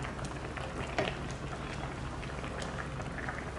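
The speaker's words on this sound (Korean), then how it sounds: "자, 당면을 넣고 또 끓입니다." Chicken stew with soaked glass noodles bubbling in a pot, a steady close simmering hiss with soft popping bubbles throughout, no talking.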